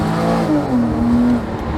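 Porsche Boxster engine on the move, with a loud, close, smooth tone that climbs slightly in pitch as the car accelerates, heard alone without talk.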